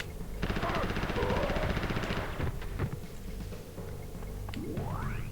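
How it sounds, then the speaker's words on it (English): Rapid automatic gun bursts rattle in a steady rhythm in the video game Mortal Kombat: Special Forces, loud and close, followed by scattered game effects and a rising electronic sweep. "We get our gun now. Okay, so use gun"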